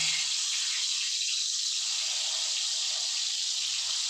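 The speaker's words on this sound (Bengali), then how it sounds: "দেখুন তেল গরম হয়ে গেছে আমি এখানে বেগুনগুলোকে ভেজে নেব" Slices of eggplant fry in hot oil for a vegetarian begun korma, giving a steady, even hiss of sizzling that stays close and unbroken throughout, with no talking.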